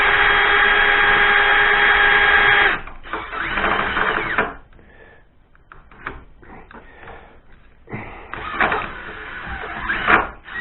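A homemade magneto tester cranked by hand gives a steady buzzing, crackling spark that runs loud and even, then breaks into irregular bursts as the speed changes, close and without talk.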